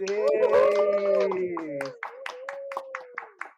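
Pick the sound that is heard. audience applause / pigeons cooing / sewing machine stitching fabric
audience applause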